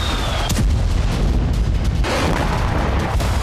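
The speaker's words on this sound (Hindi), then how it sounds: "ताबड़तोड़ बमबारी और रूसी इलाकों में जबरदस्त विस्फोट" Bombardment strikes Russian territory in the Kursk region, a rapid series of heavy booms and sharp blasts with deep rumbling between them, loud and close, one burst following another.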